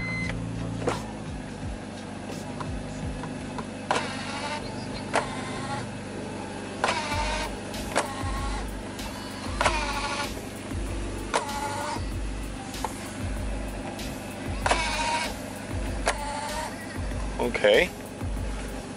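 The electric soft-top motor of a BMW Z4 convertible whirs in a series of short, repeated bursts, with a voice heard faintly at times.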